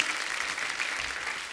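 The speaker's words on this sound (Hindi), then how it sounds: "पहले तो जोरदार तालियां।" Studio audience applause on a Hindi talk show, a steady, fairly soft wash of clapping lasting about a second and a half without pause.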